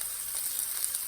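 Garlic sizzles in a hot pan, a steady close crackling hiss with no voices.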